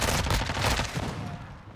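Dense automatic gunfire from Call of Duty Modern Warfare II, a short loud burst of rapid shots filling the moment with no talk over it.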